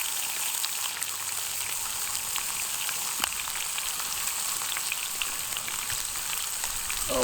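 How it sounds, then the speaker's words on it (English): Faint steady sizzle of a pan heating at a stormy lakeside wildcamp before bacon goes in; a continuous crackling hiss with scattered pops, quiet and close. "It's always a nice sound when you get the sizzle on"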